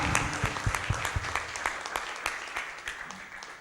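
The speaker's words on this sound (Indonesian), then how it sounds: "Ya, kita tepuk tangan." Audience applause at a science club talk on the brain, spirituality and altruism: a steady, fairly soft wash of many hands clapping together, continuing evenly with no voices over it.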